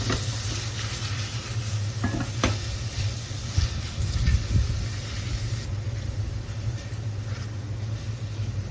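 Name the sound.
mushrooms frying and sizzling in a pan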